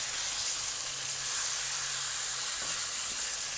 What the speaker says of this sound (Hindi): चिकन को लाइट ब्राउन करना है आपने। थोड़ा सा इसको फ्राई करके